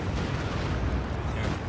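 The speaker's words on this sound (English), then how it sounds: "where's the barrage falling?" An artillery barrage lands in the war game Company of Heroes 2, a dense rumbling roll of overlapping booms and blasts that stays loud and continuous throughout, with no talking.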